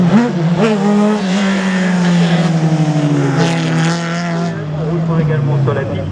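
A race car's engine roars steadily through a slalom course at the 2016 Slalom du Mortanais in France, its pitch rising and falling as the driver works the throttle between gates, with a commentator talking over it.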